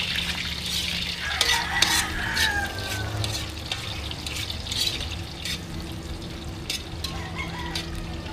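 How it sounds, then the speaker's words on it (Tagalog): Steady sizzling and crackling of food frying in a pan, with occasional scraping stirs and a faint rooster crowing in the distance. "Tamang prito lang."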